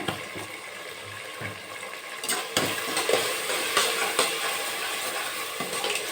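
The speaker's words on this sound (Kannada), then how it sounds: "ಇವಾಗ ಟೊಮೆಟೊ ಆ್ಯಡ್ ಮಾಡ್ಕೊಳ್ಳೋಣ. ಟೊಮೆಟೊ ಫ್ರೈ ಆಗಿದೆ." Tomatoes frying in a pan for veg pulao made with avarekalu, a steady sizzle overlaid by repeated scraping clicks of a spoon stirring, moderately loud and close, with no voices.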